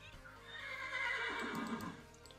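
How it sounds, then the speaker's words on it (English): A horse in the video game Minecraft gives a drawn-out whinny, clear and moderately loud with a faint low hum beneath, and no talking. "We got a horse!"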